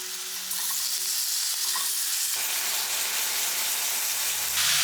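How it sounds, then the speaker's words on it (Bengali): Capsicum tossed and fried in a little leftover oil in a home kitchen, giving a steady close sizzle and hiss with stirring scrapes, a brief louder burst near the end, and no talking. "ক্যাপসিকামটা ভাজলাম বলে একটু তেল রয়ে গেল সেই তেলটাতেই আমি এটা একটু টস করে নেব"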